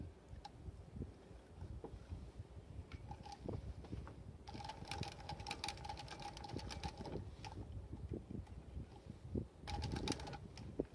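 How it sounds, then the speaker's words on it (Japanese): A compound-feed leather sewing machine with a titanium presser foot stitches in two rapid bursts of rhythmic mechanical clatter over a low background hum, with pauses between the runs. "どうでもいいところ無駄に ミシンで攻めたくなりますよ。"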